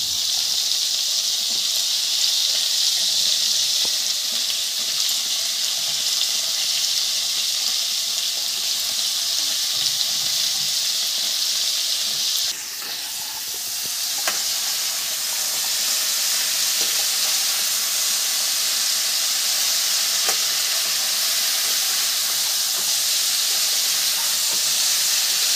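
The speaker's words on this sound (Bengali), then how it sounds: "আমি সবজিগুলো সবই দিয়ে দিচ্ছি, একসঙ্গে ভেজে নিচ্ছি।" Mixed vegetables for a five-vegetable curry fry in a pan with a loud, continuous sizzle and steamy hiss that briefly dips and then rises again, with a few faint stirring clicks.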